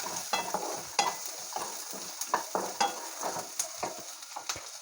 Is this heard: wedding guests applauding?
no